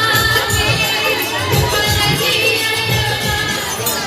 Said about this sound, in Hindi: आप लोग देख सकते हैं कितना ज़्यादा भीड़ है